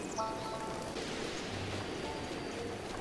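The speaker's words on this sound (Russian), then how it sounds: "О, блин, дождь пошел." Steady rainfall in the video game Zelda: Breath of the Wild, a soft, continuous hiss of drops on surfaces at low level, with a few faint game chimes near the start.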